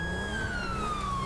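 A loud, close police siren holds a long wailing tone that gradually slides downward, with no voices.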